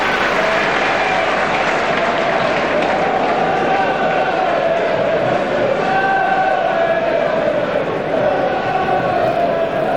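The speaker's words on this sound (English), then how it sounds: "And what a good round of applause from the town fans." Home fans at a 1990 Grimsby Town versus Bournemouth football match applaud steadily across the stadium, a broad sustained roar of clapping and crowd noise with no break, loud and continuous throughout.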